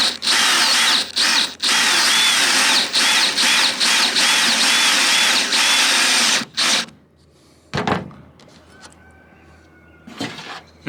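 Power drill driving self-tapping screws with lock washers into a backup camera mounting bracket on a box truck, several loud close bursts of whirring separated by short pauses, then quieter handling sounds and two more short bursts.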